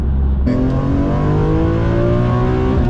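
A BMW E46 M3 with its S54 engine revs hard while driving, a loud, continuous engine note climbing steadily in pitch after a sharp jump in load, with no talking over it.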